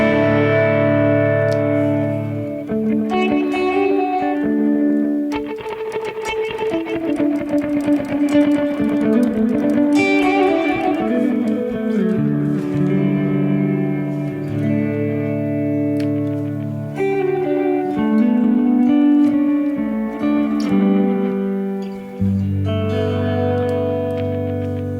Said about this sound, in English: Multi-head echo there.